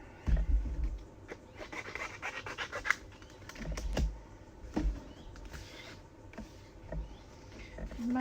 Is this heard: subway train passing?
no